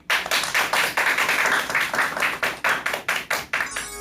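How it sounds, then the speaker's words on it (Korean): An audience claps to welcome a lawyer's lecture on why young couples divorce, a fairly small crowd giving a steady, rhythmic patter of distinct hand claps that holds for about four seconds, then tails off. "큰 박수로 강연 청해 듣도록 하겠습니다."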